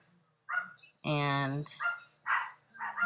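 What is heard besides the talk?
dogs barking at night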